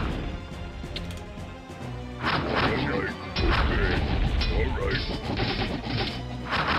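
Cannon tower firing in Warcraft 2: Beyond the Dark Portal, heavy crashing booms and impacts repeating amid loud battle noise and game music, steady and busy throughout.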